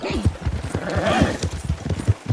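Hooves of a harnessed horse clip-clop in a steady rhythm during a winter endurance race in Red Dead Redemption 2, close and clear with a voice talking over them.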